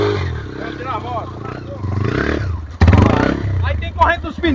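Motorcycle engine on an off-road trail ride, idling and revving nearby with clatter and scraping as the bike is moved, several people talking over it.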